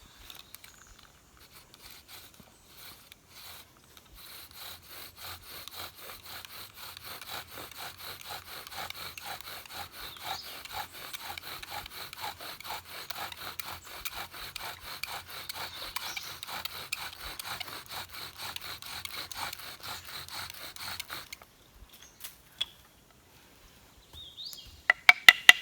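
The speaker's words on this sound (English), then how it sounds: "So the spindle's on the cordage, on the bow, and let's go ahead and start our hole here." A bow drill spins a wooden spindle on cordage against a fireboard for friction fire, giving a quiet, rapid back-and-forth rasping that builds steadily for about twenty seconds, stops abruptly, and ends with a few faint knocks.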